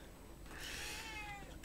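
A cat meows up close indoors, one drawn-out, rising and falling cry lasting about a second, loud against a faint steady background hiss.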